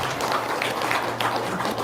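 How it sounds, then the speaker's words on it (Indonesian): Audience clapping in a seminar hall, a dense patter of hands over a low steady hum, continuous and moderately loud throughout. "tepuk tangan dong, luar biasa"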